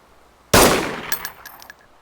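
A single sharp SKS rifle shot in the DayZ video game, loud and close, with a burst of crack followed by a ringing metallic tail and a few faint mechanical clicks.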